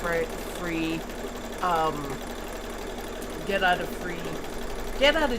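A sewing machine zigzag-stitches a fabric mug rug in short, close runs of rapid mechanical whirring, each burst separated by pauses, with someone talking over and between the stitching.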